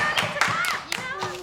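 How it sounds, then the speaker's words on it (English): A handful of sharp hand claps land at a quick, uneven pace, mixed in with voices talking over them at close range. "We don't need to clap."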